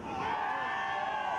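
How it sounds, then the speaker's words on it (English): A beach crowd of Peruvian fans cheers and whoops for a surfer at a junior surfing championship, a steady distant roar that holds throughout. "Let's see if the Peruvians give one more chance to cheer."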